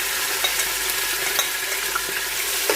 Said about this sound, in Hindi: अब हम प्याज ऐड करेंगे,